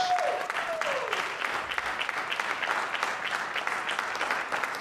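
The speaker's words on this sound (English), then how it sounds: "We can just keep clapping." Live podcast audience in a New York City venue applauding as a guest walks onto the stage, dense sustained clapping from a large crowd that holds steady, with a brief tone near the start.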